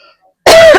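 A single loud, close cough, a harsh choking burst after spicy ramen goes down the wrong way, briefly preceded by near silence.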